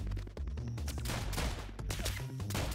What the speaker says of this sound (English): We shot our bullets.